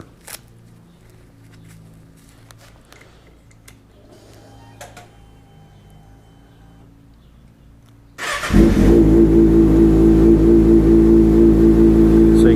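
Quiet idling and faint clicks, then a 2019 Kawasaki Ninja ZX-6R with a full M4 GP exhaust suddenly roars loud and steady, a harsh, throaty exhaust note riding close to the microphone.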